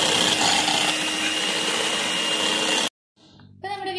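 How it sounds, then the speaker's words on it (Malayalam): An electric beater whips cream at medium speed with a loud, steady whirring drone that cuts off abruptly near the end, followed by brief quieter clatter and a voice. "നമുക്കിതൊരു മീഡിയം സ്പീഡിൽ ഇട്ടിട്ട് നന്നായിട്ടൊന്ന് ബീറ്റ് ചെയ്തെടുക്കാം"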